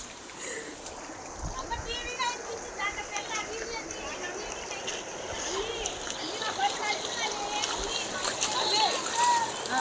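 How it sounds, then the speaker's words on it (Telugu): Floodwater rushes and splashes steadily, filling a flooded area with a continuous broadband wash of moderate, fairly close water noise. Faint voices can be heard in the background. "ప్లేస్ మొత్తం నిండిపోయింది. ఈ వరద అవును ఫ్రెండ్స్ చూడండి."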